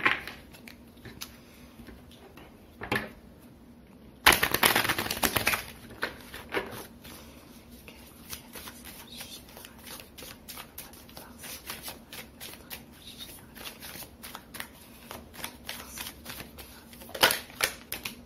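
Oracle cards are shuffled and drawn from a mirror oracle deck, giving a run of light papery flicks and soft card slaps, with a louder riffle partway through and scattered taps afterward, close by and with no talking.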